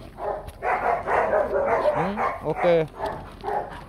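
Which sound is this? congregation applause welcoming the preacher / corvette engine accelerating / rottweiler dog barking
rottweiler dog barking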